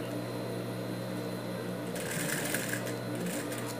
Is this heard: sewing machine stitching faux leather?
yes